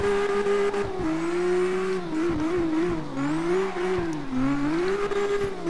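A car engine strains in fifth gear while drifting, a steady droning note that wavers in pitch as revs rise and fall, loud and close with a faint tire hiss beneath.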